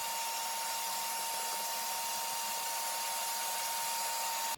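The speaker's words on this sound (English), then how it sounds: "So now I'm going to do some vacuuming, clean it up." Steady, loud broadband whoosh of a vacuum cleaner running continuously while cleaning up a repaired, previously soft and rotted RV floor, with no talk and only a slight drop in level at the very end.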